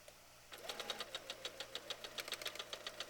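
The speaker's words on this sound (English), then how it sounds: "I like to chain sew again, but I like to go down the row." A sewing machine chain-sewing two pieces of fabric together at a quarter-inch seam, starting after a short pause and running in a fast, even stitching rhythm, close and fairly quiet, with no voices.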